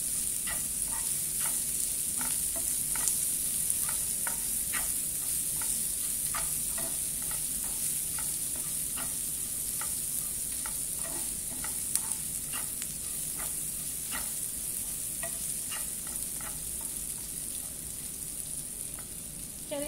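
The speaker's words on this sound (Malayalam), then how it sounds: "പച്ചമുളകും കറിവേപ്പിലയും കൂടി ഇട്ട് നന്നായിട്ടൊന്ന് ഇളക്കി കൊടുക്കുക." Green chillies and curry leaves fry in a pan with onion and salt, a steady hiss of sizzling oil overlaid by regular light ticks of a spatula stirring throughout.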